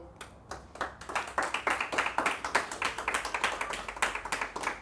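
A church congregation claps in a steady, quick rhythm, with many hands beating together. The clapping is fairly soft and even, with no talk over it.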